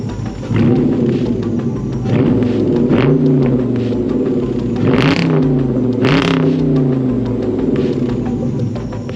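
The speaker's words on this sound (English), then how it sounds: "I got to get a little nasty with the exhaust because I love the way my mom's car sounds" A car engine is revved hard through a loud, nasty-sounding exhaust, with a close, rumbling roar that rises and falls in repeated blips and no talking.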